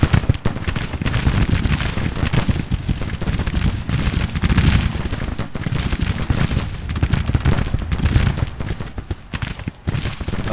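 Dense, continuous musket and cannon fire from a Civil War battle in the strategy game Grand Tactician, a loud crackling volley roar sustained throughout with no let-up.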